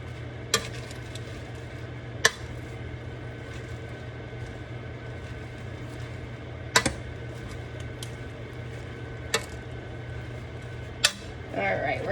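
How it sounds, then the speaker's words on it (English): Wilting spinach and lemon pasta stirred in a pan, a quiet steady sizzle with occasional sharp clicks and scrapes of the utensil against the pan, under a low constant hum. "I'm just gonna start kind of stirring it"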